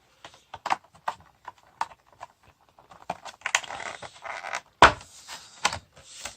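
Pokémon card special jumbo set featuring Ho-Oh GX being unsealed up close, with crinkling and rustling packaging, light clicks and taps, and a sharper tear near the end, without speech.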